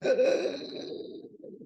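A voice imitates a Canon printer's vacuum compressor refilling, a hissing, whirring, breathy steady tone that fades out over a couple of seconds.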